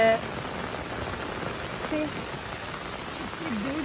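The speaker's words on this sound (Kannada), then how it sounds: "ಫುಲ್ಲು ಮಳೆ." Heavy rain falling outdoors on a girls' road trip near Honnavar, a dense steady hiss of drops on surfaces throughout, with faint voices in the background.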